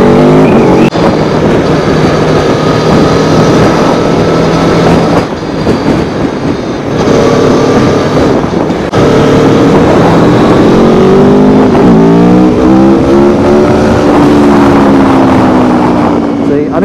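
A KTM 690 SMC single-cylinder supermoto engine revs loudly and close by, its pitch rising and falling across repeated throttle blips over a constant rumbling drone.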